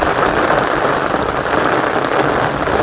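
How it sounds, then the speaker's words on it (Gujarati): Heavy monsoon rain pours steadily in rural Gujarat with no wind, a dense, continuous hiss of drops on surfaces, loud and close throughout with no voices. "જેવું વરસવાનું હતું ને એવું જ વરસી રહ્યો છે."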